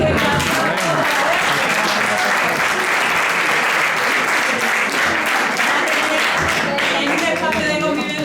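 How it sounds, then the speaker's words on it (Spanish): A large theater audience claps continuously in loud, dense applause that holds steady throughout, with faint voices mixed in. "Bueno, un fuerte aplauso."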